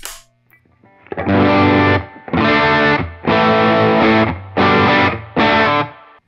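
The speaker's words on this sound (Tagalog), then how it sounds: "Let's go to the king of tone." Overdriven electric guitar through a King of Tone KTR clone pedal: after a faint lead-in, five sustained, crunchy chord bursts ring out loud and close, separated by short gaps, with no voices.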